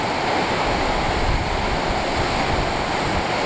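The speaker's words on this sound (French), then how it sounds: "C'est beau. Cascade." Dense, constant roar of rushing water, loud and close, like a waterfall in Iceland pouring steadily down a steep slope with no pauses.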